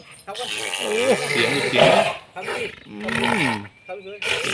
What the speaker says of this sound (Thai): ช้างแต่ละเชือกเสียงก็จะไม่เหมือนกันนะครับ